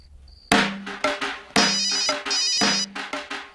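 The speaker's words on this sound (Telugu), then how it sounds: "Sir phone sir." A mobile phone ringtone plays loud and close, a repeating melodic tone pattern after a brief faint beep.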